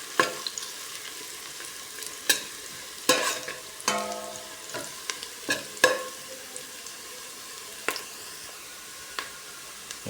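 Garlic frying in a pan being stirred, a soft sizzle under a series of distinct utensil scrapes and taps at irregular intervals, louder early and thinning out toward the end.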